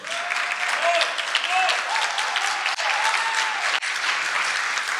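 Audience applause for Céline Douchet at a public debate on transition and democracy, a dense, steady clapping that fills the room for several seconds, with faint voices mixed in.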